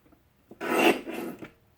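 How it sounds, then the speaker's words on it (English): A paper trimmer slices through a piece of cardstock in one short, close rasping stroke of about a second, set against near silence. "Now I'll trim this piece horizontally at 4 1/2"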